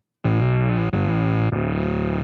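Bass guitar through an MXR Bass Synth pedal set to a different waveform plays three sustained, buzzy synth notes with no pause between them. It starts abruptly, holds loud and steady throughout, and carries no talk.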